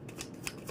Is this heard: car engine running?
no